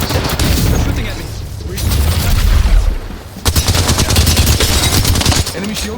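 Rapid automatic gunfire rattles through a match of Apex Legends, with dense close bursts of shots and a brief lull midway, and a player's voice can be heard among the shots.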